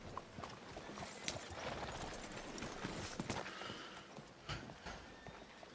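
Horse hooves in a Western video game clip-clop at a slow walk, soft and somewhat distant, over a busy background of faint ambient game noise with no clear talking.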